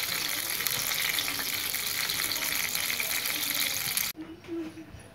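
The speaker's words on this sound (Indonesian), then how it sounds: "Jadi cabainya digoreng terlebih dahulu sebelum" Chili peppers frying in a pan, a steady dense sizzle that runs loud and continuous for about four seconds before cutting off abruptly, leaving quieter clattering.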